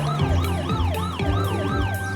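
A cartoon ambulance speeds along, its loud wailing siren sweeping up and down in a fast, steady repeating cycle, close and continuous.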